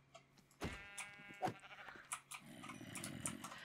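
Sheep in the survival game Revival Craft bleating, several wavering calls close by among game sounds and soft footsteps, with a low buzzing texture toward the end.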